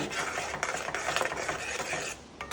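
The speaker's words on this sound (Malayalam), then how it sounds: "നല്ലോണം ഇളക്കി കൊടുക്കാം" Pavakka ellu curry, a bitter gourd and sesame curry, stirred in a pan, giving a steady close scraping and rubbing texture with small clinks throughout and no talk.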